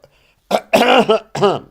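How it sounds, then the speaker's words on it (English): A short burst of throaty coughing close by, three or four rough coughs in quick succession, brought on by smoke from burning. "That's why I'm coughing."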